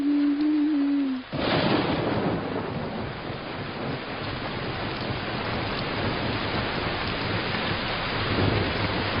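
A heavy thunderstorm with rain: after a short low hum, a dense loud downpour starts abruptly and pours steadily on surfaces, with a deep rolling undertone throughout and no voices.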